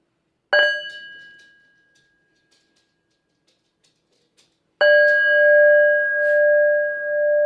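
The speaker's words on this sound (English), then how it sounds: "Can I get another bell" A struck meditation-style bell rings out at a talk, once with a long fading shimmer, then again after a pause with a loud, sustained, wavering tone, heard alone without speech.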